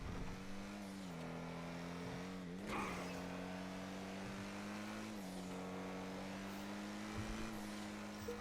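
Lampadati Komoda car engine in a GTA video game on a test track, holding a steady high drone with brief pitch dips through turns, continuous and close with no talk.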